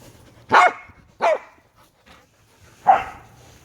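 Three sharp dog barks during a game of catch, a quick pair followed by a single louder yip after a pause, close by with quiet background.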